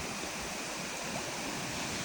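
Tinuy-an Falls waterfall pours in a steady, unbroken broadband rush of water, close and fairly loud, with no voices over it.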